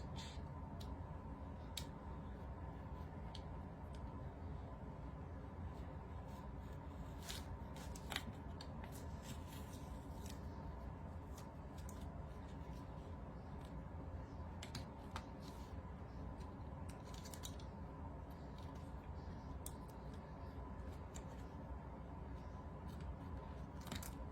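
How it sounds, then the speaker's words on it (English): Scissors or a cutter snip at the bottom of a wood wall decor piece, giving a handful of faint, scattered crisp snips and clicks over a low steady background hum. "So, I am gonna cut the bottom first."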